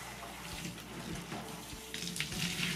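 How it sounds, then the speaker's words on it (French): Running tap water rinsing a henna mask out of hair, a steady close gush with small splashes and shifting flow, brightening toward the end, with no talking. "maintenant, on va rincer tout de suite"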